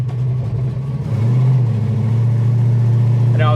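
A 600hp 1973 Dodge Challenger engine rumbles loud and close, idling roughly before revving up into a sustained deep roar.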